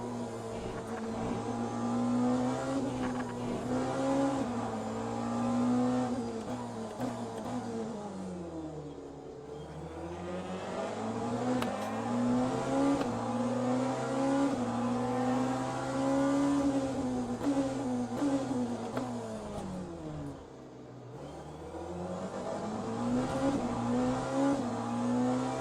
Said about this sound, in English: I'm in a Porsche 963.